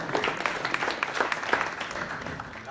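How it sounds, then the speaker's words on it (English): Indoor tech meetup audience gives a short burst of applause, a dense patter of many hands clapping at moderate volume that carries on steadily for a few seconds. "a big applause to Lorenzo for helping us with the seats"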